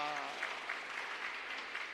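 A church congregation claps during a Sunday worship service to welcome a returning couple, a steady two-second patter of many hands at moderate loudness with no voices over it.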